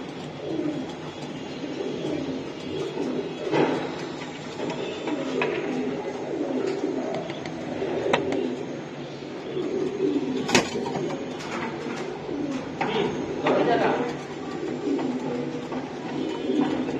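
Racing pigeons in a breeder's loft keep up a soft, continuous cooing murmur, with scattered sharp clicks and wing flutters rising out of a steady background hum.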